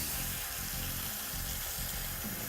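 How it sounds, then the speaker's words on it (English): Water poured from a tap into a bowl of mussels, a steady loud rushing splash with slight pulsing, heard alone. "Now we're going to soak these with some water."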